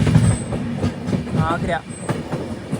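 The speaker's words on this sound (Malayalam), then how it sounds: "ട്രെയിൻ ഇപ്പോൾ രാജസ്ഥാനിലൂടെയാണ് പോയിക്കൊണ്ടിരിക്കുന്നത്." A Navyug Express sleeper train rumbles steadily through Rajasthan with a clattering, rolling roar heard from inside the carriage, a brief squeal rising midway and a few words spoken over it.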